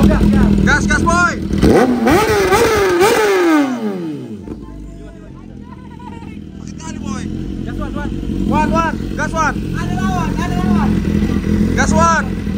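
A BMW S1000RR sport motorcycle revs sharply in rising bursts, close and loud, while people talk and shout over and around it.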